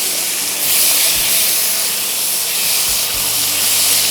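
Flat beans (shim) fry in a pan with turmeric, giving a loud, steady sizzling hiss that swells slightly and holds constant from start to finish.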